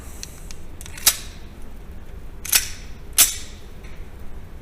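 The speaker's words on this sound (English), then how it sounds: "First rounds, Remington R51, Atlanta Arms, 115 grain, 5 shots, first shots." A Remington R51 pistol firing 115 grain Atlanta Arms rounds: three sharp, crisp shots spaced irregularly a second or so apart, fairly close, with quiet outdoor ambience between them.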